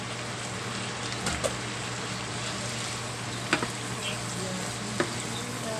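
Mung beans go into a pot of sautéing ingredients for a Filipino monggo dish with chicken gizzards. A soft, steady sizzle with a few faint clicks and bumps, and no talking.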